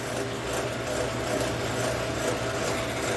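Steady, close abrasive hiss of light sanding on a rubber pro-stock tractor pulling tire with 1,000-grit paper over a low mechanical hum, continuous without pauses.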